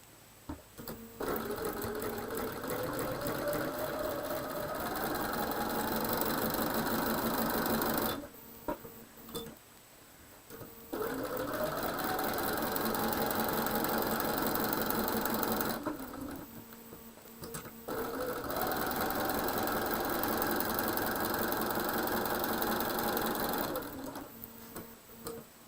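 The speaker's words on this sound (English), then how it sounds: "we're going to go to the machine and we're going to sew directly on the line" A sewing machine stitches quilting fabric along a drawn line in three long, steady whirring runs, its needle chattering rapidly, with short quiet pauses between runs.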